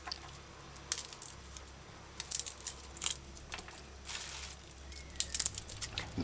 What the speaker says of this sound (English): Peel garlic.